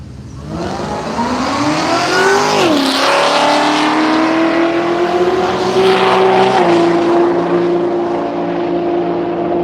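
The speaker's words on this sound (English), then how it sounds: "Left wheel high up in the air for the big yellow Holden." A big yellow Holden drag car launches down the strip at Willowbank Raceway in Australia, its loud engine roaring and climbing through gear changes as it pulls away, steady and powerful throughout.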